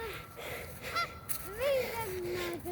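A large flock of geese honks from close by, with rising calls and sustained nasal notes over steady outdoor noise and faint background voices.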